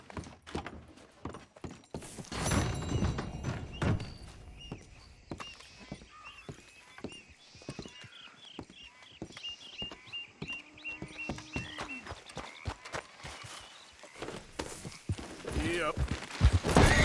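Horse hooves in the Red Dead Redemption 2 video game, a quick irregular patter of clopping strikes running through most of the stretch at moderate level, with game sounds and someone talking over it.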